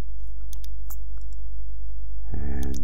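Mouse clicks in a computer drawing program, a few sharp separate clicks over a steady low electrical hum, close to the microphone, with no talking.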